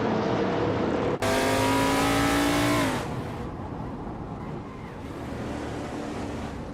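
A 1971 Chevrolet Monte Carlo NASCAR race car in a racing video game roars up loud and close with rising revs from about 1.2 to 3 seconds, then drops to a steadier, quieter engine drone with other cars running under it.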